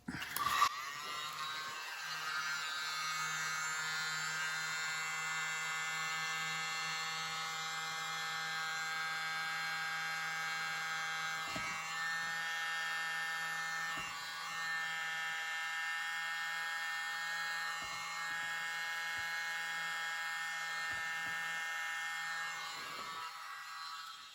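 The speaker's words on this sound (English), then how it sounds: "Use my mini blower." Mini blower used to push poured paint in fluid art, a steady high-pitched whirring drone running continuously and close at even loudness, with a few faint knocks underneath before it cuts off at the end.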